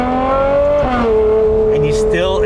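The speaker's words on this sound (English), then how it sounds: "the exhaust note just comes straight into the cabin" A Ferrari 812 GTS V12 with Novitec exhaust, heard from inside the cabin: a loud engine note rising and falling in pitch as it revs, close up with a smooth, sustained tone, with a voice briefly underneath.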